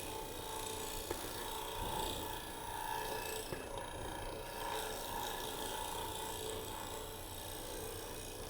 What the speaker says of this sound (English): a scraper and kind of smooth up that surface a little bit. And this is a negative rake scraper.